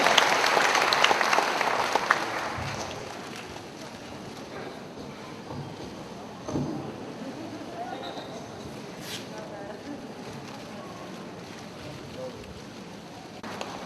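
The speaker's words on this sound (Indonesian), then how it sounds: "kita berikan tepuk tangan kepada kedua pembicara kita" An audience at a talk on karma and palm lines applauds its two speakers, a dense burst of clapping that is loudest at the start and thins out over the first few seconds, leaving quieter room noise.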